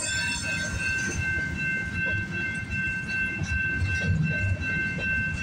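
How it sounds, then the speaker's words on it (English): A CPKC freight train with a BNSF locomotive rolls past steadily at Guelph Line in Campbellville, with a continuous rumble and rattling wheels on the track, and a faint high tone rings throughout. "Now the train is picking up speed at least."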